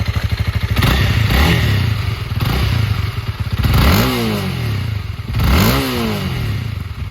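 A 2021 Honda Rebel 300 motorcycle engine idles with a loud, rapid putter and then revs up sharply three times, each rev rising and falling close by.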